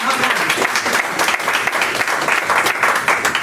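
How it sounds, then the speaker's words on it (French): A church congregation claps loudly for Jesus Christ during a sermon on spiritual combat, with dense, sustained applause that keeps an even, energetic rhythm throughout. "si on donnait une bonne main d'applaudissement à celui qu'on veut aider, notre Seigneur Jésus-Christ."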